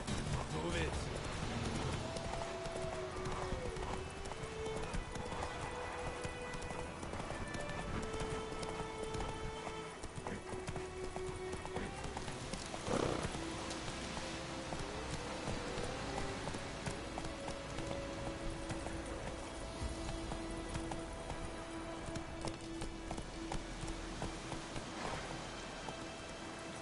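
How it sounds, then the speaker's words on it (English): Horse hooves clip-clop at a gallop through rainfall in The Witcher 3, a steady rhythmic patter over constant rain noise, with music tones and someone speaking over it. "Giddy up. That's it, Roach."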